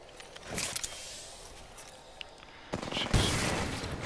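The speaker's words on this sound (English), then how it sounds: "I'm getting shot from both sides!" Gunfire in an Apex Legends match, bursts of rapid close shots and rattling automatic fire, with a quieter lull in the middle before a louder volley near the end.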